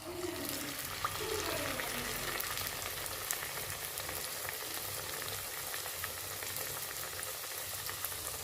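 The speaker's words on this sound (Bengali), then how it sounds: "এভাবে একে একে সবগুলো নাস্তা ভেজে নামিয়ে নেব" Snacks frying in hot oil in a home kitchen give a steady, dense sizzle that holds evenly throughout, close and moderately loud with no talk over it.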